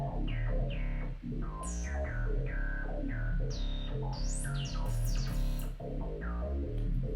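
A sustained synth line with chorus, distortion and vocoding: wavering, chorused tones with a gritty distorted edge play continuously, bright gliding notes rising over a dense low bass, in a track.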